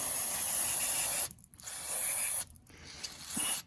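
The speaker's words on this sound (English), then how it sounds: "what you're gonna need is mass airflow sensor cleaner" Aerosol mass airflow sensor cleaner sprayed in bursts onto a Chevy Colorado's sensor: a long steady hiss, a pause, another hiss, then a shorter final spray, close up.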